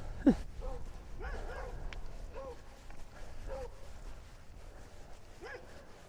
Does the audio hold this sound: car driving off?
no